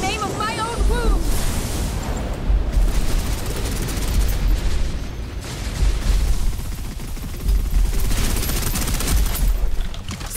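Sustained rapid gunfire from the video game Snowbreak on PC, in hard mode, with loud dense bursts and crackle continuing for the whole stretch.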